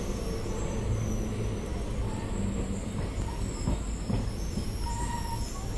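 A passenger train pulls into Hagaribommanahalli railway station, a loud, steady rumble of wagons and wheels on the track with a faint squeal running through it.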